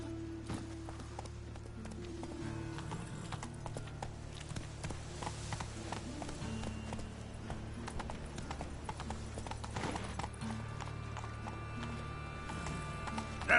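Roach the horse trotting in The Witcher 3, hooves clip-clopping in a steady rhythm over game music and ambience, fairly close and continuous throughout.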